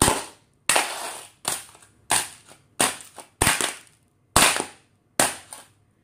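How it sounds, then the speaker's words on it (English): Cheap plastic frame of a knockoff PSP handheld being smashed, eight sharp, loud cracking impacts at roughly even intervals, each snapping hard and decaying quickly into silence. "I broke the plastic frame a little bit."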